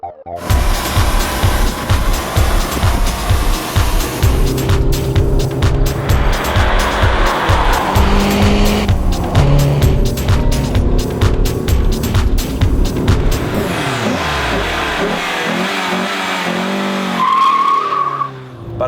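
A Fiat Tipo 2.0 16-valve with electronic fuel injection is driven hard, its engine revving loud and close through rising gear pulls, tires squealing on corners, before the revs fall away and a brief high whine fades out.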